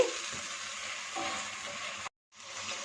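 Turmeric and nigella seeds fry in a pan, a steady close sizzle broken by scraping stirs, with the sound cutting out for a moment before the hiss comes back.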